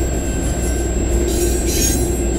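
Freight train Q122 rolls past close by on the Dundas Subdivision at Colborne Street in London, Ontario, a loud continuous rumble with squealing wheels.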